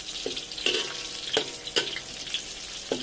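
Garlic frying in oil for sambal lalapan, a low sizzle broken by several sharp crackles and spatters spaced irregularly, close by with no talk.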